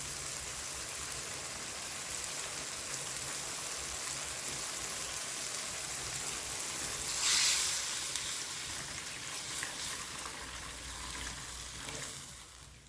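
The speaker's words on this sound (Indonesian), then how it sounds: "tuang santan" Coconut milk poured into a pan of fragrant spices while cooking pisang kepok: a steady, close, hissing sizzle and bubbling simmer, with a brief louder splash partway through and no speech.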